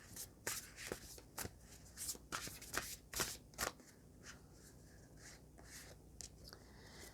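Tarot cards are handled and one is drawn from the deck, making a quiet series of crisp shuffling flicks and papery rubs, denser at first and then thinning out.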